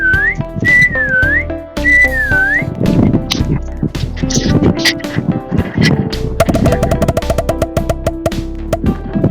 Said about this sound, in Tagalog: Uy, yung sipol ng sipol.